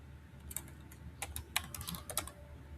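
Keys clatter on a computer keyboard as code is typed, a quick, uneven run of close, crisp taps with short pauses between bursts.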